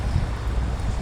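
Steady, blustery wind at the sea buffets the microphone with a low, rumbling roar, heard alone without any talking.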